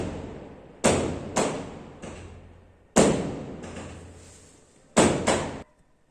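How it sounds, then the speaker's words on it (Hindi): Fireworks burst outside at night, four or five sharp bangs in uneven pairs, each followed by a long fading rumble, heard from indoors at moderate distance with no voices. "ये पता नहीं रात में आतिशबाजी कौन फोड़ने लग गया है"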